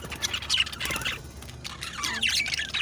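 A caged parrot gives loud, harsh squawks and screeches in close, repeated bursts that fill the whole moment with no talking.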